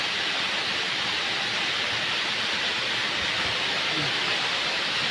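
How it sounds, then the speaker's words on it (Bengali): A waterfall at Jaflong in Sylhet gives off a steady, dense rush of falling water, heard as a constant even hiss with no pauses. "সেই কাঙ্ক্ষিত ঝর্ণা।"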